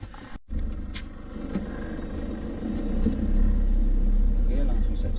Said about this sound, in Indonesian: mengelilingi kota Mekah menggunakan mobil.